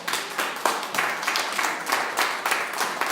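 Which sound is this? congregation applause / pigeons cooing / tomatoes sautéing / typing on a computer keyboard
congregation applause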